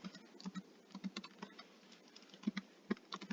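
Quick, uneven typing on a computer keyboard, light close key clicks in irregular bursts with short pauses, heard alone.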